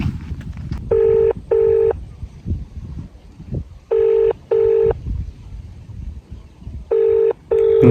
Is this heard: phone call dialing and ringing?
yes